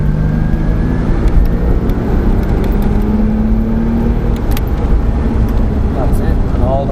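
A racing car engine climbs under full throttle on a lap of Mondello Park, a continuous loud whine rising steadily in pitch, while someone talks over it throughout.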